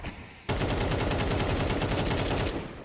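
Sustained automatic gunfire rattles out of a competitive shooter match, starting abruptly after a quiet moment and running as a loud, rapid, evenly spaced spray for about two seconds before tapering off.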